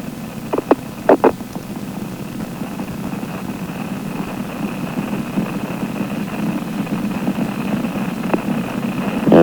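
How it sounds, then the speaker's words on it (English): Space Shuttle Columbia's main engines roar during launch as a steady, distant broadband rumble, with a few short crackling clicks of radio transmission near the start. "3 engines are throttling up."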